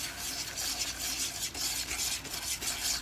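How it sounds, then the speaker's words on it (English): A spoon stirs soy sauce and sugar in a pan with quiet, rhythmic scraping and swishing strokes, repeated steadily at close range. "Now I'm just going to give this a little stir before I add in the water,"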